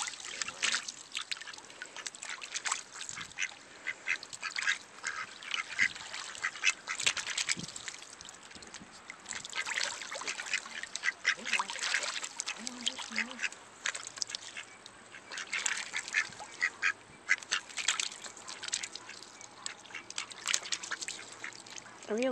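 Ducks quack repeatedly in bursts throughout, fairly close, over a steady background hum with occasional faint trickling water.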